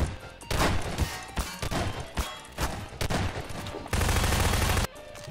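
Gunfire from props shooting in Garry's Mod Prop Hunt, loud and close, with rapid bursts and volleys repeating across the whole stretch and a dense sustained burst near the end.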